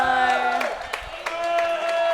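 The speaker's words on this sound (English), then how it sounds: "We're getting some stomp clap out there from people in the arena and on the sidelines" An arena crowd and sideline players at a Sweden vs Switzerland foam dodgeball match keep a steady stomp-clap beat, sharp regular hits over a sustained tonal hum and background voices.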